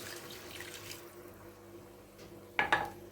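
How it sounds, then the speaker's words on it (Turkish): Hot water is poured into a mug in a home kitchen, a soft trickle followed by a brief louder splashing pour near the end, with no voices. "Ve şöyle bir kupada sıcak su ilave ediyoruz"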